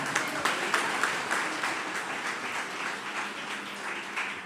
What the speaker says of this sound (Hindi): हमें तालियां बजानी है